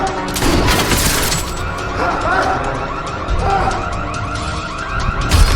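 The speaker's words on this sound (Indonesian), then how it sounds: "Langsunglah dipencet panic buttonnya. Gak lama alarm pun bunyi." A loud car alarm blares continuously after a panic button is pressed, in a tense home-invasion scene with crashes and gunfire nearby, its wailing tone cycling steadily throughout.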